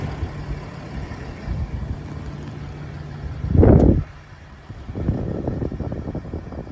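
A Land Rover Discovery 4 with the TDV6 diesel engine idles steadily and up close, a low continuous rumble that swells briefly for a moment before settling back to idle.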